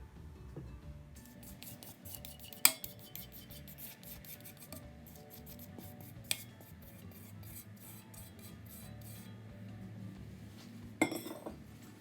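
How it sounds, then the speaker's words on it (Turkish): Sugar and egg whites for almond cookie dough being stirred into a paste, a steady scraping rub of a utensil against a bowl with occasional sharp clinks, close and fairly quiet. "Şimdi şeker ve yumurta aklarını ilave ediyorum ve macun kıvamına gelene kadar birazcık karıştırıyorum."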